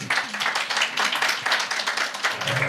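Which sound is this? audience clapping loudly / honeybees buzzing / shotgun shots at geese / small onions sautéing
audience clapping loudly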